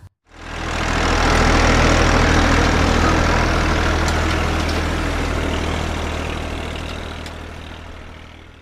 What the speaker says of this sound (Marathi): मला कळलं. ट्रॅक्टर.